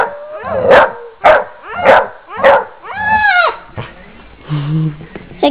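A pitbull and a husky trade sharp barks in a quick run of four, then a drawn-out howl, followed by softer whimpers and a low whining yowl, all close and loud.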